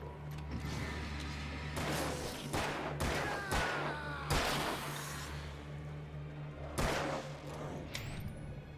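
Gunshots from a hunting shotgun in the video game Alan Wake ring out several times as separate sharp, fairly loud bangs over a steady low hum, and there is no talk.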